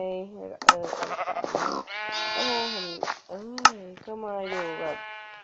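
Sheep on a farm in a video game bleat several times in a row, loud and close, with wavering calls mixed among someone speaking.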